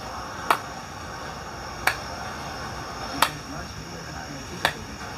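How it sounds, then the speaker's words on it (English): Four slow, evenly spaced single claps ring out about a second and a half apart, sharp and isolated over a quiet background. "slow clap"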